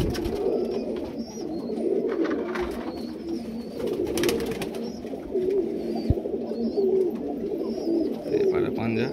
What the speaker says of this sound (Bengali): বিডার পায়রা